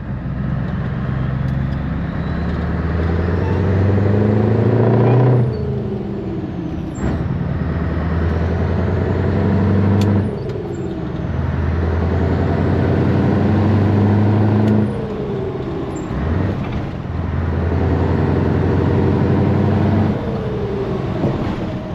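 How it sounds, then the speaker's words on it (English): Scania 143 500 V8 truck engine pulling through the gears on the road, a loud deep rumble that climbs in pitch, drops at each shift and climbs again, repeating several times. "Even when you drive quite normal in the lower rev range, shifting in the green zone over here just sounds awesome."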